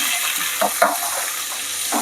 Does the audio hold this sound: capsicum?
yes